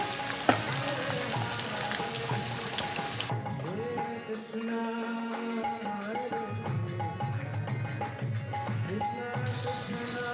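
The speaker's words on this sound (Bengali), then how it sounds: "অল্প আঁচে ভেজে নিতে হবে তা না হলে ক্রিস্পি হবে না" Chowmein noodles frying in deep oil over low heat give a steady, close crackling sizzle that runs throughout with small pops, with no talking.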